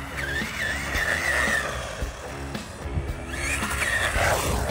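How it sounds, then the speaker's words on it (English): MJX Hypergo brushless RC car, Temu-sourced and running on a 3S battery, popping wheelies: a continuous high whining motor with rising and falling revs, tire scrabble and skidding throughout, loud and close. "This car can pull some pretty clean wheelies."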